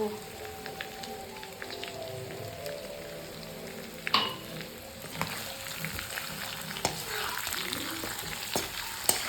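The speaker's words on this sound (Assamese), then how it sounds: "সিজিছে আৰু মাংস, আৰু অলপমান ফ্ৰাই কৰি জোল দিম আৰু।" Local chicken meat fries in a pan with a steady, rain-like crackling sizzle, punctuated by occasional clinks and stirring knocks, moderately close and alone with no speech.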